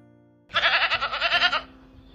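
A single goat bleats once, a loud wavering cry lasting about a second against a quiet background.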